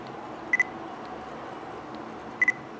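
A Nikon DSLR fitted with a Nikon 35mm f1.8G DX AF-S lens gives two short double beeps of focus confirmation, each a quick pair of faint high chirps, spaced about two seconds apart over a soft background hiss.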